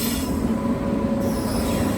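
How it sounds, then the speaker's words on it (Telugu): A train pulls into the station near Kazipet with loud, continuous rumbling and a sustained high metallic squeal from the wheels, close by and without speech. "ట్రైన్ అయితే వచ్చింది"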